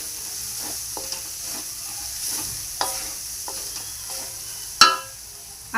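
A potato masala filling for vada pav is stirred in a hot pan, with soft sizzling, scraping spoon strokes at an irregular rhythm and one sharp metallic clink near the end.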